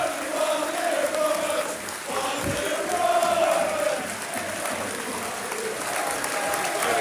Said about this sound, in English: A minute's applause for Liam on 8 minutes.